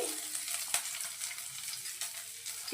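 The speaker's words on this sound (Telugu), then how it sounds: "కొంచెం పచ్చివాసన పోయేంత వరకు అయితే ఫ్రై చేసి చూసుకోవాలి" Chopped ginger and garlic frying in ghee for sweet corn soup, giving a soft, steady sizzle with a few light stirring scrapes, close and fairly quiet.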